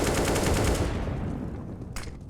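Pistol gunfire in a Counter-Strike match: a loud, rapid burst of shots that fades, followed by a brief sharp report near the end.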